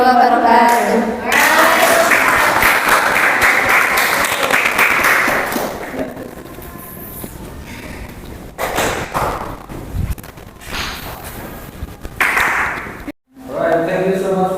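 A class audience applauds a group after their presentation, loud dense clapping at first that thins into scattered claps, thumps and talking voices.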